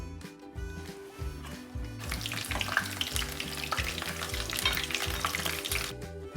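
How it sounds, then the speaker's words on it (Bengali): Asparagus frying in a pan starts a crackling sizzle after a quieter opening and keeps sputtering unevenly over a low, rhythmic background tone. "এরপর আমি ফ্রাই করে নেব অ্যাসপ্রাগাস"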